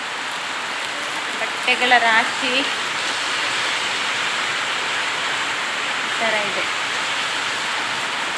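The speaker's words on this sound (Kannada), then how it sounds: "ಜೋರು ಮಳೆ ಬರ್ತಾ ಉಂಟು, ಇವತ್ತಂತೂ ತುಂಬ ಅಂದರೆ ತುಂಬ ಮಳೆ" Heavy rain pours steadily in a broad, constant roar, while someone talks briefly over it.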